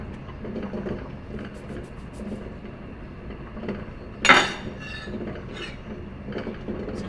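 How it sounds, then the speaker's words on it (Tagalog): Kitchen knife slicing a cucumber on a cutting board, with a series of light taps and clinks and one sharper clatter midway, heard alone and fairly close. "Hinihiwa-hiwa ko lang yung cucumber."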